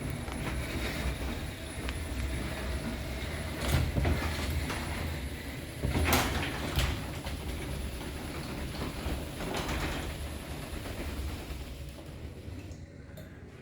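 A Genie Excelerator garage door opener drives a small garage door, its steady close-range mechanical drone holding throughout with a few brief rattling jolts from the door, then cutting off near the end.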